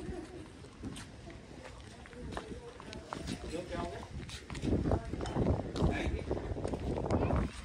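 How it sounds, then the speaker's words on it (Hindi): Strong wind blows outdoors in a village, gusting and rumbling across the microphone and growing louder toward the end, while a person talks over it. "कितनी तेज तेज हवाएं चल रही हैं बाहर"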